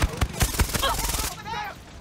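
Gunfire in the video game Far Cry 6, a quick run of loud, sharp shots in rapid succession that then give way to quieter game sounds.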